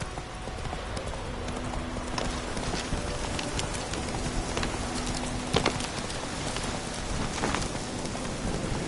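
Horse hooves clip-clopping in a steady rhythm while riding in a video game, set against constant heavy rain with an occasional louder thud.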